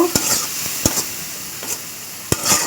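Spice masala of turmeric, chilli and coriander powders being stir-fried for a thin small hilsa fish curry, with a steady sizzle broken by several sharp spatula scrapes and knocks against the pan, close and fairly loud.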